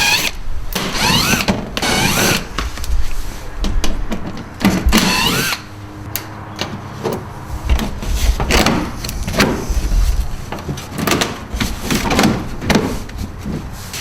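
Bolts and plastic clips come off the under air dam of a 2012-2014 Toyota Camry: close scraping, rubbing and clicking handling noises with short bursts of tool activity and occasional louder knocks, no talking.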